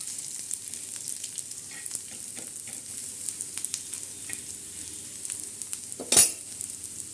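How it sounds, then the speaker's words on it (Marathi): Black masala of whole spices, onion and coconut dry-roasting on a flat griddle pan, with a soft, steady close sizzle, light scraping stirs and one brief louder clatter near the end. "हे बघा या पद्धतीने मसाला छान असा भाजून घ्यायचा"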